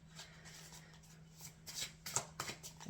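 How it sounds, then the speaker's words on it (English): A tarot card deck is shuffled nearby in soft, repeated riffling bursts that grow busier toward the end, over a low steady hum. "please come through when I shuffle the deck"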